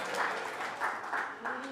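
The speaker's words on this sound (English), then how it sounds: "Oh, you can applaud, it's okay." Applause from a church congregation at a Sunday celebration service, a soft, moderately distant patter of clapping that swells in several small waves over less than two seconds.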